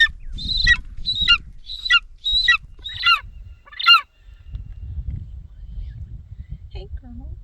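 A hunting eagle in Kyrgyzstan gives a series of five sharp, high, yelping calls in steady rhythm, close by, followed by low wind and someone talking.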